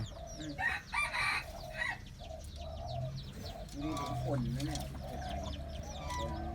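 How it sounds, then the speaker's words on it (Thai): Red junglefowl in a mixed pen crow and cluck nearby, with a drawn-out crow and scattered clucks over a busy farmyard background, people talking quietly at times. "นี่คือไก่ป่านะครับ"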